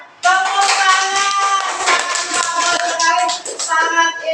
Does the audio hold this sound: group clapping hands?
yes